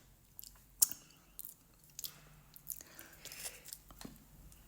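Someone bites into hard frozen watermelon served with lemon and honey, making close, irregular crunches and chewing sounds with short sharp bites and quieter gaps between them.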